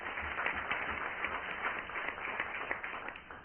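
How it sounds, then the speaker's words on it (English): Audience at a sponsor-recognition event applauds steadily, a dense, even wash of many hands clapping at moderate distance, sustained for a few seconds with no voices over it. "would you please give them a round of applause"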